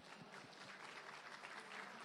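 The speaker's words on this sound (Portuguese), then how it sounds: "quero que vocês se levantem aí é, para receber uma salva de palmas pelo trabalho que vocês fazem junto com a gente" A faint, steady wash of applause from an audience at a Brazilian tech event, honoring scholarship students who stand up. The crowd claps continuously, distant and soft, with no talking over it.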